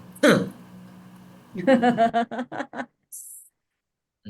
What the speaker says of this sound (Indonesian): Batuk dulu.